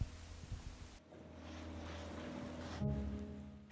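Ocean waves wash and slap around a small migrant boat crossing from Morocco toward Spain, a steady broadband rush with wind buffeting the microphone and a low hum of an outboard motor underneath, swelling slightly near the end.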